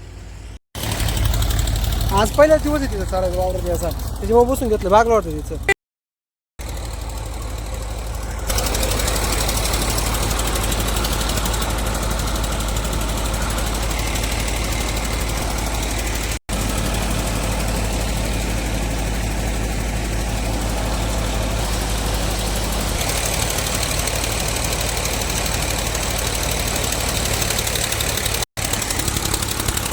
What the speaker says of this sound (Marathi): हे बघा इकडं सोयाबीन काढायचं मशीन चालू आहे